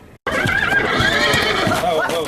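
A horse evacuated from the Deer Creek Canyon wildfire area in Jefferson County gives a loud, long, wavering whinny that fills the whole stretch, with faint hoof clops and background voices beneath.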